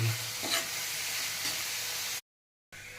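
Papaya pieces sauté in ghee for papaya halwa, giving a soft, steady sizzle with stirring scrapes, then a brief silent gap before the hiss resumes.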